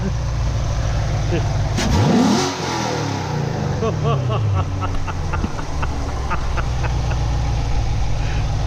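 A C7 Corvette engine revs up sharply, rising to a loud roar, then drops back to a rumbling idle with a voice briefly audible.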